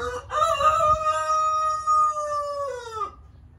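A single rooster crows near a backyard tilapia farm, one long, loud, clear call held for about three seconds before it drops away, with no talking over it.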